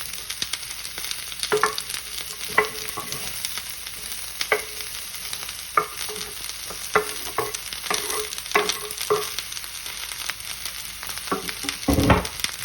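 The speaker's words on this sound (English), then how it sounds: "if you hear a sizzle, you're doing well" Steady sizzle of fajita vegetables frying in a pan over high heat, with scraping and stirring clatters scattered throughout and a louder clank near the end; no talking.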